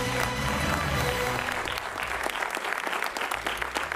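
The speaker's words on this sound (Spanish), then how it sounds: "Un aplauso para Bernabé." A studio audience on a Spanish quiz show applauds loudly and continuously, a dense, close wash of clapping with faint voices mixed in.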